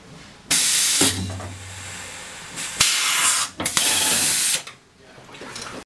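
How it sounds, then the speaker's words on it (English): A pneumatic rivet-nut tool sets a rib nut in the B pillar of a Ford Transit van, sounding as several loud bursts of air hiss with mechanical clicks and brief pauses between them. "And then we're gonna set this rib nut."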